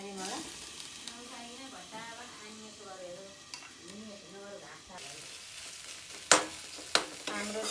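Tomatoes cooking in a covered pan for Nepali-style mushroom curry on low gas, a soft steady sizzle under a speaking voice, then a few sharp clinks of a lid or utensil near the end.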